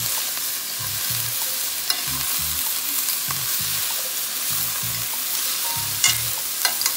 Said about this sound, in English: Let's stir this bad boy around.